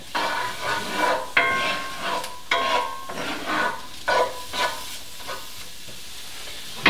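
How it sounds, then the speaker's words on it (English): Chopped onion hitting a hot pan with bursts of loud sizzling, followed by several stirring scrapes that each bring a fresh surge of frying hiss, close and clear with no talking. "And we're going to add the onion."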